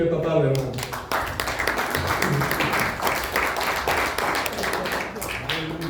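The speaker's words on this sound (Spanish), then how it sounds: "Dale palmas al rey en esta tarde, hermano." A church congregation claps together in praise during a Spanish-language service, brisk continuous handclaps mixed with voices throughout.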